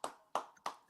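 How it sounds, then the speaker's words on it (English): Three sharp hand claps in quick succession, close and fairly quiet, from people applauding the season finale of the show Invincible during a pre-show talk. "Can we all just have a round of applause for Invincible?"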